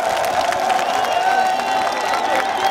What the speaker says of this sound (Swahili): Piga makofi mengi sana kwa mheshimiwa.